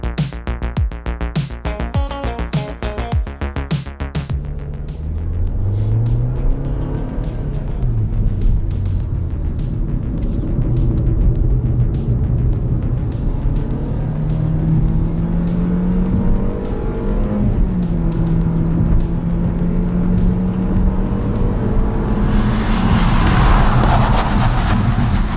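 A 2019 Nissan Kicks during a series of 60-to-0 mph braking test runs, its engine droning and rising in pitch as it accelerates, passing close with a steady, loud road roar and tire noise.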